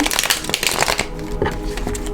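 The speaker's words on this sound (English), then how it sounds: "Let me shuffle that one more time." Tarot cards riffled and shuffled by hand in a dense run of quick papery flutters during the first second, then softer scattered card rustles over a low background hum.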